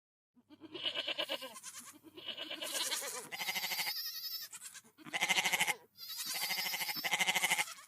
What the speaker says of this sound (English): They heard her and stood upright, bleating a welcome.